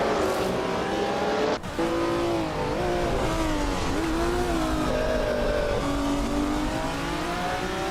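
Race cars, among them a Porsche 935/78, accelerating off the start line together, engines revving and rising in pitch with a loud continuous roar, a brief dip as gears change, then climbing whine as the pack pulls away.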